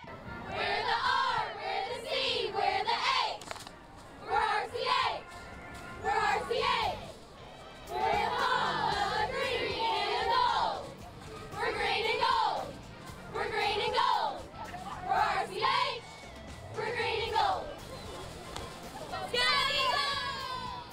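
Cheerleaders and a crowd cheer at a high school football game, repeated bursts of loud shouted chants with short pauses between, voices rising together in rhythmic waves.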